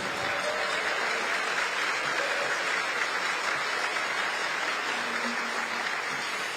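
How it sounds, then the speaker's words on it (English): A crowd at a veterans appreciation luncheon claps steadily in sustained applause, a dense even patter of many hands with no voices rising above it. "let's have another round of applause"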